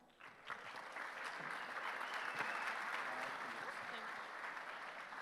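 Applause from a large crowd at a tech hackathon opening ceremony welcomes a speaker onto the stage, steady dense clapping that swells quickly and holds for several seconds.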